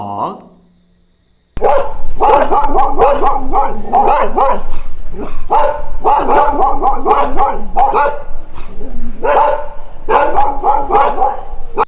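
Dog barking in rapid, repeated bursts that run steadily for several seconds, loud and close, with a short quiet gap before the barking begins.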